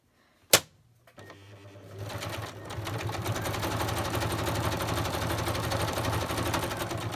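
A sewing machine stitches fabric onto slippery plastic acetate, starting with a sharp click, then running as a steady, fast, close mechanical whirr that continues on its own to the end.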